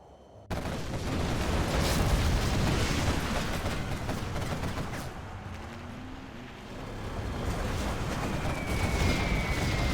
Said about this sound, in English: Carpet bomb comes in from painful death.